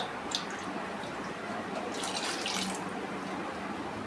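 Water pours steadily into a cooking pot for sambar, a continuous splashing rush with a few brighter bursts of spatter.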